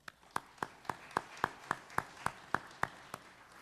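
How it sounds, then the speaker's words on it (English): Applause from a gala audience honoring Mountain Empire Community College Foundation supporters: about a dozen sharp, evenly spaced claps at a steady rhythm, fairly faint and sparse, as if from a small group or a single pair of hands. "Let's give these folks a round of applause."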